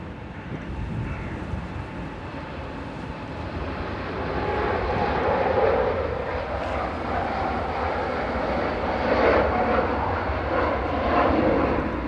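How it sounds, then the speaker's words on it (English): An Ethiopian Airlines Airbus A350-900 departing Manchester Airport in the evening, its engine roar building from a distant rumble into a loud, sustained broadband thrust that swells and lingers. "A350-900 departing now"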